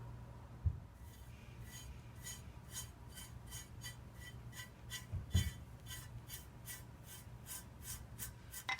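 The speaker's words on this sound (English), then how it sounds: "So we're gonna go ahead, scrape that off" Old bubbled coating is scraped off an intake plenum. Rhythmic rasping strokes repeat steadily and speed up, with two sharp knocks of the tool against the metal part.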